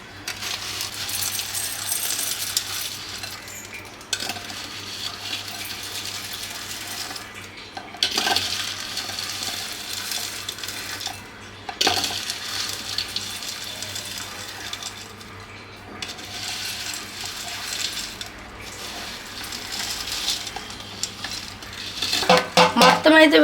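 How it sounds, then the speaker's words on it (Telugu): Crispy sabudana mixture, a fried sago snack, tumbles into a serving bowl in a home kitchen, giving a steady dry rattling patter with brighter bursts as the pieces pour and clink against the bowl, loud and close with no one talking. "అంటే సర్వింగ్ బౌల్లోనైతే వేసుకుందాము"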